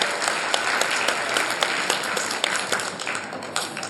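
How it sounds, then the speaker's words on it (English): Loud, sustained applause from a school audience at an annual report event honouring a top-scoring student, with many hands clapping in a dense, even wash and no talking over it. "Huge round of applause."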